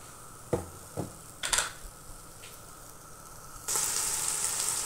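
Whole spices and chopped onion hit a little hot oil. A few scattered clicks and taps are followed by a sudden bright hiss of sizzling that holds steady, close and fairly loud.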